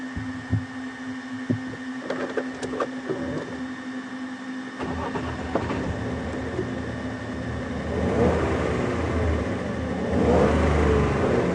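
A safari vehicle idles at Djuma Game Reserve with a low engine hum and scattered clicks and knocks. The engine then climbs into a couple of louder, rising revs toward the end.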